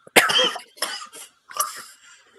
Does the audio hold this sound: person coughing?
yes